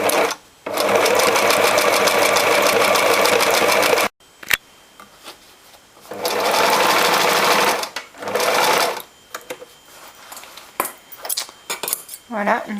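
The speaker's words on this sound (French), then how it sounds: "On va coudre tout autour au point zigzag assez serré." A sewing machine running a tight zigzag stitch around a denim knee patch on a child's jeans. It whirs in steady fast bursts with pauses between them and light clinks in the gaps.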